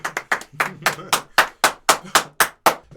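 A burst of hand clapping, about a dozen sharp claps at a steady, slightly uneven rhythm, close and fairly loud with no voices.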